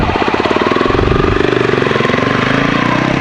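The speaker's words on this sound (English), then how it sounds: "we are out today on the crf300l, and Jeff's above on his 300ls." A Honda CRF300L dual-sport motorcycle rides along the gravel of Ivy Gap Road, FS 100. Its single-cylinder engine drones loud and close with a steady pulsing thrum, and a second CRF300L rides nearby.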